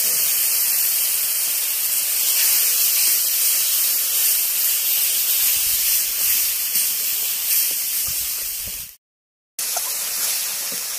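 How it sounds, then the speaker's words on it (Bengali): Garlic paste, dried chilli powder and turmeric sizzle with onions in a little oil, making a loud, steady, close hiss that breaks off briefly before resuming. "তার বাটা, শুকনো লঙ্কার গুঁড়ো আর হলুদের গুঁড়ো দিয়ে দিলাম।"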